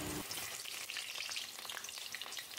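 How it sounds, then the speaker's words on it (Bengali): Potato pieces frying in mustard oil give a steady, dense sizzle that holds from start to end, with small crackles and faint stirring scrapes and no voices. "আলুগুলো তেলে দিয়ে দিলাম"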